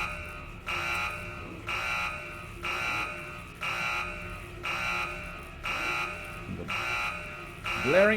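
Blaring alarm in the video game Tesla Effect sounds in regular repeating bursts of roughly half a second on and off, loud and steady over a low background hum, with no talk over it.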